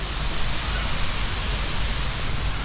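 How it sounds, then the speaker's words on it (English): Dense, steady rush of falling water from a waterfall inside an aviary in Kuala Lumpur, loud and continuous with no distinct breaks. "Looks like there's a waterfall ecosystem down there."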